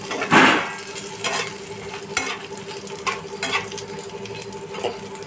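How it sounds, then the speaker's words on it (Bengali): Cumin seeds roasting in hot oil, a continuous sizzle with a loud scrape near the start and repeated clinks and scrapes of stirring throughout, close by. "গন্ধ বেরোলেই জিরেটা তেলে রোস্ট হয়ে যাচ্ছে।"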